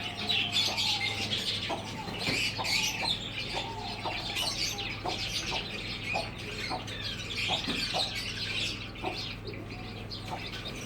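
Hens and chicks cluck and chirp in a steady, busy chorus, with repeated short calls over a constant low background hum.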